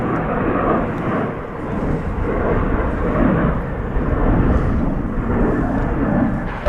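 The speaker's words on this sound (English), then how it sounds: "American Flight 2448 to Sacramento, California, an Airbus A321 appears to be next on our departure horizon" An American Airlines Airbus A321 departs from DFW International Airport with a loud, continuous broadband engine roar that holds steady throughout, rumbling heavily in the low end with no clear voices.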